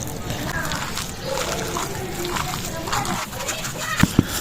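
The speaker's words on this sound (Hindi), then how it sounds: "दोबारा अच्छी तरह से जो है ना मिक्स कर लेंगे अमेज़े में मछली को" Fish is mixed by hand into a kebab mixture, making steady wet squelching and sloshing close by, with a voice talking over it and two sharper taps near the end.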